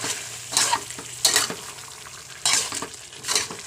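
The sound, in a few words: stir-frying boiled white gourd with beef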